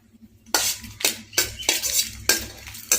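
Dried red chillies being fried and stirred in sesame oil, a utensil scraping and clinking against the pan in several quick strokes, loud and close, with no talk.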